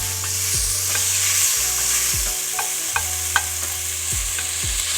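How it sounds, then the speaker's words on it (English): Vegetables for turkey chili sautéing in a pan, a steady close sizzle and fry with repeated spoon scrapes and stirring knocks throughout. "We're gonna saute that down"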